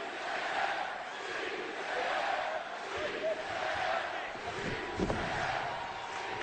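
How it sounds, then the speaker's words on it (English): A WWE wrestling arena crowd roars and cheers steadily, with shouting and applause blending into a broad, sustained din while a commentator talks over it and a couple of sharp thuds stand out near the end. "Still celebrating and still applauding."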